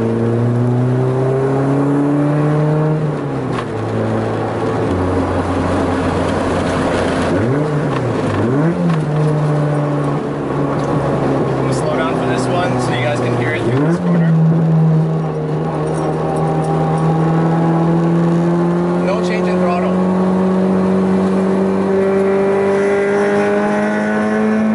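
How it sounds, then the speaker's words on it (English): A Honda B18C engine in an EG Civic with a K-Tuned exhaust idles with a deep rumbling exhaust, then revs up several times in quick bursts before climbing into a long, sustained high-pitched rev. "the exhaust is super loud at low RPMs"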